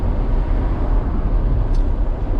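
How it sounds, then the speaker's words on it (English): Steady, loud broadband road roar inside a mid-engine Corvette 1LT Z51 with Magnetic Ride, driving at night, a constant low rumble with no talking. "there's a lot of road noise you'll see with this car"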